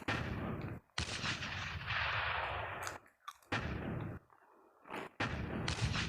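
Tank cannon fire in the video game Tank Hero, heavy booming shots in quick bursts with brief silent gaps between them, loud and close.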